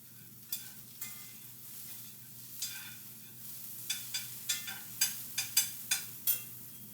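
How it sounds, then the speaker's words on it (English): Onions being stirred in a frying pan while cooking chili, with a steady low sizzle and a run of sharp scraping strokes that quicken into a regular rhythm near the end, close by and moderately loud. "Let me stir those onions."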